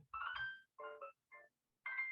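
A mobile phone ringtone plays a short melodic pattern of four distinct tonal bursts separated by brief gaps, clear and fairly close, with no talking.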